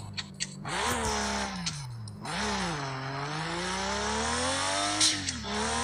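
A Nissan Skyline R34 approaching and passing, its engine tone rising and falling with revs and gear changes, loud and continuous for several seconds, with a few clicks and a brief hiss near the end.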